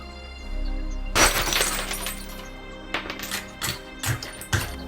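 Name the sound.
breaking glass of emergency cupboard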